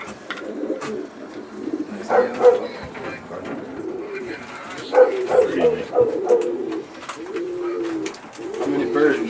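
Racing pigeons in a loft coo in low, rolling bursts close by, the throaty calls rising and falling in waves as people talk over them.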